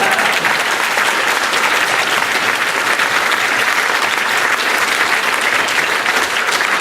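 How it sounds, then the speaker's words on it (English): Loud, dense audience applause at a political Q&A event, continuous and even throughout, close and full with no speech over it. "why do we applaud that?"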